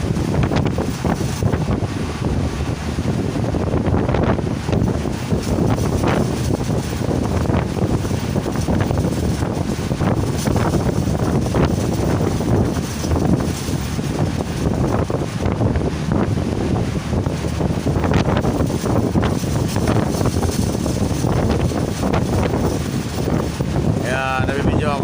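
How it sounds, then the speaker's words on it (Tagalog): A ferry crossing open sea at night with four engines running together gives a loud, steady low rumble, mixed with heavy wind buffeting and wash from strong waves, continuous with no clear breaks. "Apat ang makina, apat din ang ilisig. Sabay-sabay andar yan ng apat."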